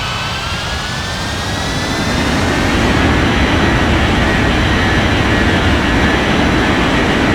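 An Air Canada jet airliner on its takeoff roll from runway 35, a loud steady roar of jet engines with a broad low rumble and a thin high whine, growing slightly stronger and holding at full power throughout.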